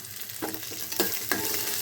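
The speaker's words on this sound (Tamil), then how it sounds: "நம்ம நறுக்கி வச்சுருக்கிற வெங்காயத்தை போட்டுடலாம் வெங்காயம் நல்லா ஃபுல்லாக நல்லா வதங்கணும்" Onions sizzle in a hot pan while a utensil stirs, giving a few scraping strokes over the constant frying hiss.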